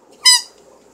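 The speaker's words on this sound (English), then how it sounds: "this squeaky toy?" A squeaky toy gives one short, sharp squeak, close and fairly loud, against a quiet background with no talking.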